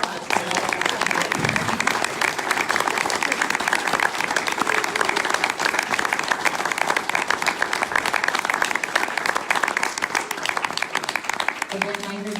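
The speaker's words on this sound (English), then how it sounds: "Could we please have some applause?" Steady audience applause at a ward all-candidates meeting, sustained clapping from a full room that runs loud and even for the whole stretch with no letup.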